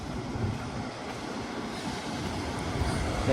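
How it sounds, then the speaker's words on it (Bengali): A tram rolls along a street in an old residential district of Moscow, a steady low rumble of rail noise that holds evenly throughout with no voices over it. "তার পাশে রাস্তা যে ট্রাম যাচ্ছে"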